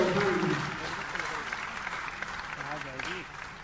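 Audience applause at a celebration event in Raipur, a steady wash of clapping that fades slightly, with someone speaking over it.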